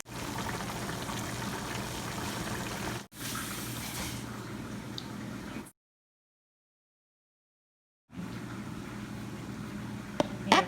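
Beef and tomatoes for lasagna cook in a pan, giving a steady bubbling simmer that is broken by a brief dip, then cuts to complete silence for a few seconds before the simmering resumes.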